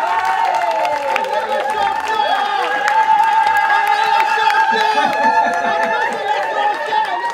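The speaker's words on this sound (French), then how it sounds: "on les applaudit un peu" At a celebration, an audience applauds and cheers after a dance performance, with scattered whoops and lively crowd chatter mixed throughout at steady volume.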